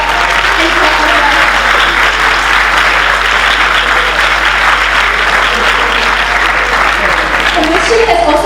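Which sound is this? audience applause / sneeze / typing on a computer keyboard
audience applause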